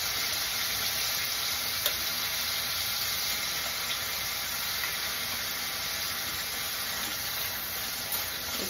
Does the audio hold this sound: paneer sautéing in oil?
yes